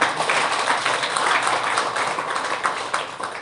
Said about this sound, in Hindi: तो हम उनके लिए जोरदार ताली बजा दें।